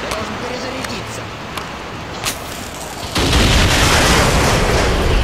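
Gunfire in Call of Duty: Modern Warfare 2 arrives as a few distant pops before a dense, loud roar of sustained shooting takes over the second half, with a voice talking underneath.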